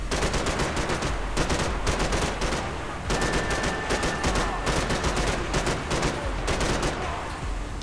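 Rapid, dense gunfire from the action shooter Max Payne 3, with bursts of automatic shots crackling almost continuously for several seconds, close and loud, with only brief gaps between volleys.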